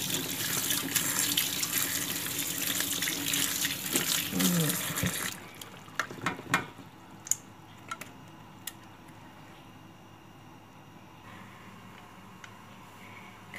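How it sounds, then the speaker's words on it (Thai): Tap water runs steadily over soaked sticky rice being rinsed in a kitchen, a continuous splashing stream that cuts off midway, followed by quieter drips and small clinks. "ล้างน้ำเปล่าออกอีกรอบนึงนะคะเพราะว่าข้าวแช่มันจะออกจะมีกลิ่นนิดๆ นะคะ"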